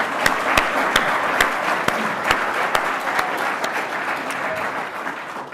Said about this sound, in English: Can I just have a round of applause for the guys that have organised this?